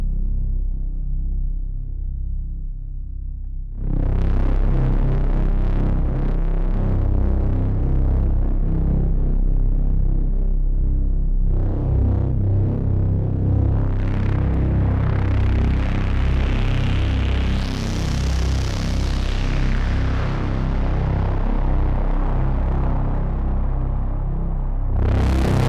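A massive modular-synth braam note swells in, a deep, droning, distorted blast that sustains through heavy reverb. It retriggers partway through and rises into a brighter, roaring peak before easing back, loud and alone.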